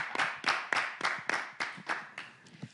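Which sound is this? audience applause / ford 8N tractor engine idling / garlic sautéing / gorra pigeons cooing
audience applause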